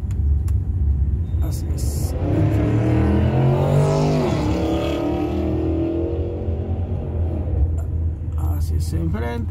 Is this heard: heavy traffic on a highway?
yes